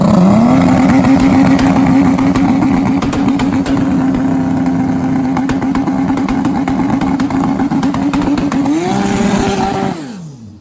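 Turbocharged Suzuki Hayabusa pro street-tire drag motorcycle at a night race on a cold track, loud sustained engine roar held at steady high revs for most of the run, then a brief rise and sharp cut-off as the pass ends.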